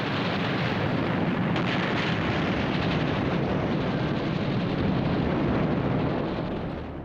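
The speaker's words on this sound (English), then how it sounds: "The larger and less maneuverable carrier, Lexington, was also hit by several bombs as well as 2 torpedoes" Bombs strike the US aircraft carrier Lexington in World War II combat, a continuous loud roar of blasts and rumbling explosions with crackling debris that holds steady before easing off at the end.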